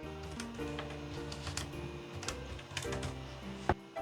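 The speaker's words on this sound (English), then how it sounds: "next let's type in whole bottle" Fingers tap out a word on a computer keyboard in a quiet room, a quick run of light clicking keystrokes over faint background hum, ending with a sharper key press.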